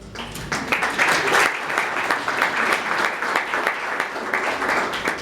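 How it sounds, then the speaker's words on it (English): Steady applause from a crowd, a dense patter of clapping that carries on throughout at a fairly even level. "So she deserves to get that applause."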